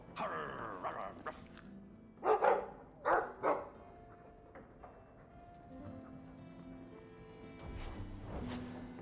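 A mabari war dog from the video game Dragon Age II lets out a few loud, close barks in a short cluster, set over a soft, steady game background.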